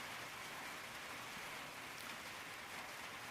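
Steady rain falls outside a wooden trail shelter on a muddy mountain trail in winter, a continuous even hiss of drops with no talking.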